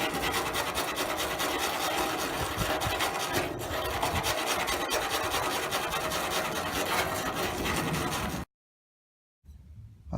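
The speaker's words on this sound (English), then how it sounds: "Use the wire brush and sandpaper to clean all the dirt." A wire brush and sandpaper scrub a copper fountain to clean off dirt, a loud, fast, steady rasping close to the microphone that stops abruptly near the end, followed by silence and a brief faint noise.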